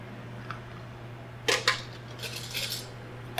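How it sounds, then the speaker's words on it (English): A utensil clinks against a dish while breaking up an egg yolk for macaroni and cheese, with a few close sharp taps followed by softer scraping clatter over a low steady hum. "You want to just break the yolk up a little bit before you add it to your mac and cheese"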